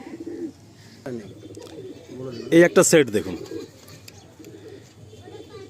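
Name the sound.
pigeons cooing in a loft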